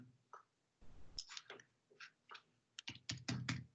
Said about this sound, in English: So we will type here